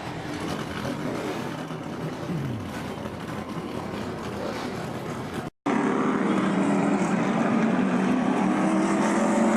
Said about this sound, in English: As the engines are all fired up